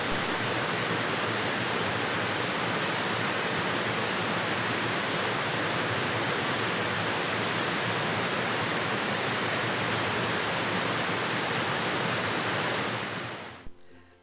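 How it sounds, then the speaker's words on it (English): A waterfall on a forest trail near Bellingham, Washington, roars as a steady, dense rush of falling water, loud and constant throughout before cutting off abruptly at the very end. "We can only assume that this was waterfall number 3."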